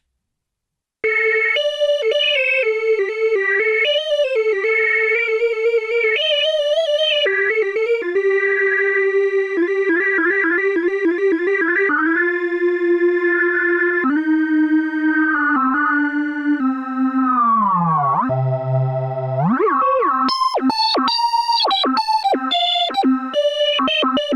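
A Microfreak synthesizer plays a meandering melody, notes sliding and wavering with bright buzzy harmonics, steady and loud with no talking, ending in quick high stabs.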